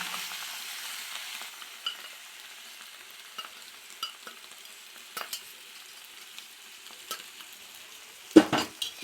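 Macaroni cooked with turmeric sizzles in a pan while being stirred, with a soft steady frying hiss and occasional light scrapes, ending in a sharp clank of a utensil against the pan.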